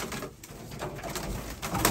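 White grizzle racing pigeons coo inside a family loft, soft rolling calls over a steady room hum, close and continuous through the brief moment.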